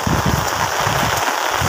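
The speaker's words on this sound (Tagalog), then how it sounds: "Walang hinto yung ulan." Heavy typhoon rain pours down without a break, a loud, continuous hiss and patter of drops striking surfaces nearby, with no voices.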